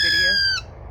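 A hawk-headed parrot gives one loud, harsh squawk up close that ends abruptly, followed by quiet room tone.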